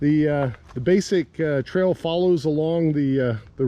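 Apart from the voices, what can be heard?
No distinct noise like a dog, phone or traffic.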